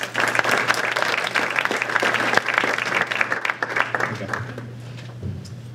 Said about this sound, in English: one quick big round of applause for them as well